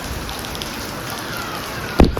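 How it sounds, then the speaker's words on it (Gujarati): Steady rain falls in a continuous, even hiss throughout, with a louder splash or knock near the end; no voices are heard. "તો મિત્રો વરસાદ તો રૂકવાનું નામ નથી લેતો."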